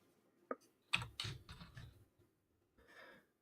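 Short bursts of clicking keystrokes on a computer keyboard, faint and close, come in a quick cluster of taps with brief pauses between them and no voices.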